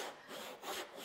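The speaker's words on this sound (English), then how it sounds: "So I'll saw down to my baseline, and then we'll saw the second half." A hand saw cuts into wood for a dado joint, making steady, close rasping strokes in a back-and-forth rhythm with brief pauses between strokes and no talking.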